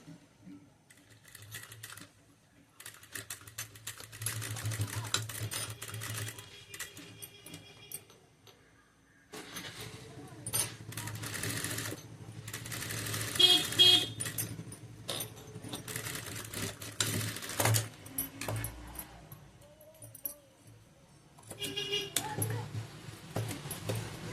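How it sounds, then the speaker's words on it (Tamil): Sewing machine stitching the hook section of a garment, whirring in short bursts with stops between runs, close and fairly quiet, with light clicks and handling noise in the gaps. "கொக்கி தைக்கிற பகுதியை வந்து நான் தைச்சிடுறேன்"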